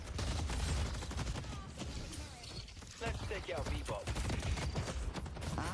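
Turrets in a video game fire in dense, rattling bursts under loud game action, a steady barrage of shots with a voice talking over it.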